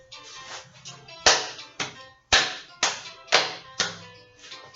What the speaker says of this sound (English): You can play two-handed claps with him.